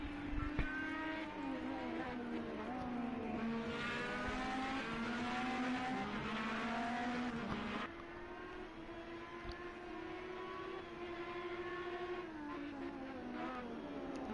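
An Indycar engine in the Project CARS 2 racing game at the Nurburgring drones and whines steadily, pitch rising and falling through gear changes and corners, continuous and fairly loud with no talk.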